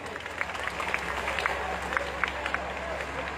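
Audience applause at a Hindu religious katha gathering, a moderate patter of hand claps running steadily throughout, with a voice talking over it.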